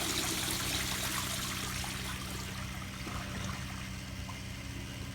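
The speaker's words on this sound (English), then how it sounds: "here's a flush" American Standard Afwall toilet flushing, a continuous loud rushing of water that holds steady and tapers slightly, close by.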